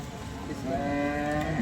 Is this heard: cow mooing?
yes